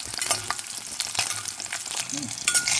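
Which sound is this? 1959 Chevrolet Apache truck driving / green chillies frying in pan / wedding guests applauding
green chillies frying in pan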